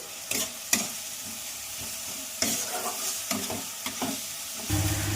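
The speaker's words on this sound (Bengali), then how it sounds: "এবার মশলাগুলোকে ভালো করে নেড়ে চেড়ে কষিয়ে নেব যতক্ষণ না তেল ছেড়ে দিচ্ছে এবার অ্যাড করছি টমেটো কুচি" Spices and chopped tomato frying in oil for a chicken curry with pointed gourd and potato, with a close continuous sizzle and repeated scraping strokes of a spatula, and a louder hiss near the end.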